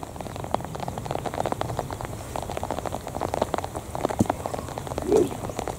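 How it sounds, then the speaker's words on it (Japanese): Rain falls steadily on a golf course at Bristol Hill Golf Club, a dense, continuous patter of drops on nearby surfaces with no voices. "これ絶対雨やばいっすよね。 雨辛いね。"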